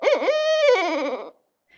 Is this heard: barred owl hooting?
yes